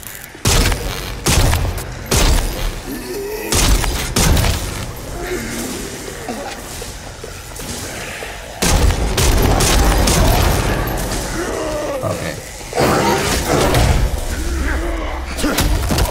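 Dead Island 2 gunfire sounds in loud bursts of shots and heavy booms, repeated across the stretch, with a voice talking between them.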